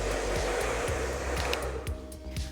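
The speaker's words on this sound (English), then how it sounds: "Using my fingers, I'm gonna rough dry Brooke's hair, making sure to move her root in every direction to get a lot of volume" Hair dryer rough drying a client's hair as fingers lift the roots for volume, a loud, steady, close blowing roar with slight wavering as the airflow shifts, heard alone.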